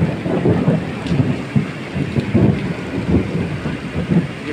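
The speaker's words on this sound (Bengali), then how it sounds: "তার মাঝখানে মেঘের ডাক দিচ্ছে, প্রচুর পরিমাণে ডাক।" Thunder rumbles repeatedly through heavy rain over an open field near Kaliganj during a storm with lightning, the booming rolls rising and fading over a steady, dense hiss of rainfall.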